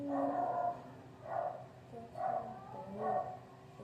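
A dog barks four times at a steady spacing, each bark a short, voiced burst heard at moderate distance with no talking over it.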